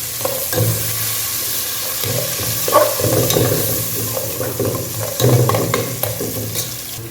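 Bay leaf and cinnamon sizzle in hot oil at the start of a kushka biryani, a steady close frying hiss with a few brief stirring clatters and bursts of crackle, no voices.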